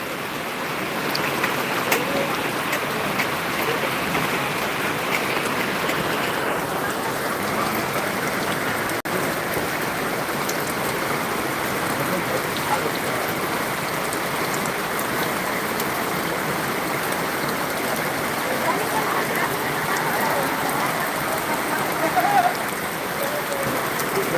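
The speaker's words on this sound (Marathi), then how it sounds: "खूप जोरात पाऊस सुरू आहे" Steady heavy unseasonal rain hisses continuously over a vegetable market in Boisar, Palghar district, with a faint murmur of voices in the background.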